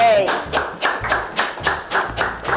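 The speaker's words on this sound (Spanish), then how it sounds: "el día de hoy es Katia, a quien le vamos a dar un fuerte aplauso." Rhythmic hand clapping at a burger cook-off show, about eight steady claps from a few people close by, with a faint tone and voices mixed in.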